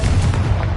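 A Confringo spell blast erupts in Hogwarts Legacy, a brief loud fiery boom with dense low rumble that fills the whole short moment, no voice over it.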